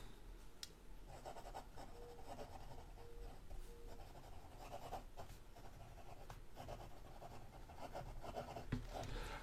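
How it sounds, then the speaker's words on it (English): A nib pen writing quickly on paper, giving faint, soft scratching strokes in quick irregular bursts over a quiet background. "So that's me writing fairly quickly."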